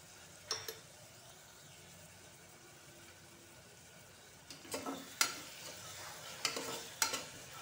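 Ginger garlic paste fries with onions for a mutton curry, a faint quiet sizzle broken by a few soft scrapes of a spoon against the pan, clustered mostly near the end.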